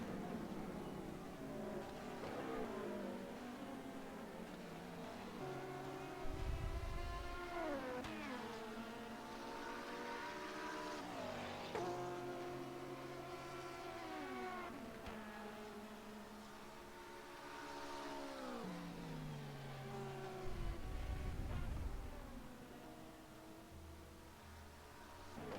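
Simulated race cars lapping Mosport in rFactor 2 during a World Sports Car Challenge endurance race, several engines droning and shifting through gears in close company, rising and falling steadily for the whole stretch.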